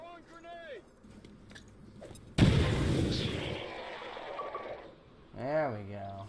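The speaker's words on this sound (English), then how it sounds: "Throwing grenade!" A grenade blast in XCOM 2 bursts in suddenly and loudly, then rumbles and decays over several seconds, with a voice talking briefly before and after.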